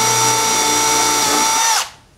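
A power drill whines at a steady high pitch as it bores into a junk wooden board at a sawmill, then winds down abruptly and stops, leaving near silence.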